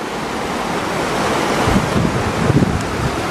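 Floodwater from a swollen river rushes steadily through a Moroccan desert, a continuous broadband roar with gusts of wind noise on the microphone and a few louder surges toward the end, with no voices.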